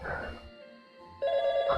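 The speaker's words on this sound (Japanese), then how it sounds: "サミーが電話してきた。" An electronic telephone ringtone from the video game YIIK sounds as an incoming call arrives, a steady tonal ring that grows louder in its second half, with a brief voice near the start.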